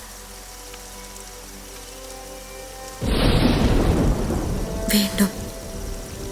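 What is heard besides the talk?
heavy rain and thunder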